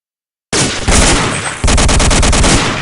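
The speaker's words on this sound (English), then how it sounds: "I literally shot around you." Gunfire from the World War II shooter game Day of Defeat breaks out suddenly after a short silence: loud, close shots followed by a rapid, evenly spaced burst of automatic fire.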